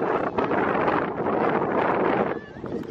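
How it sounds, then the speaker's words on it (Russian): Strong wind coming off the sea at a Cyprus coastal hotel buffets the microphone in a steady, loud broadband roar that dips briefly near the end, while a person talks over it. "Ветер с моря такой приличный дует."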